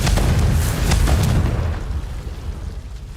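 The Confringo fire spell explodes in Hogwarts Legacy, a loud close burst with crackling fiery blasts that decays into a fading rumble over a few seconds.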